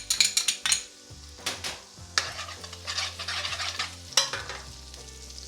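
Ginger goes into a hot pan for chicken tikka jalfrezi: bursts of loud sizzling mixed with metal spoon clatter and scraping, flaring when the ginger lands and again midway, with no talk.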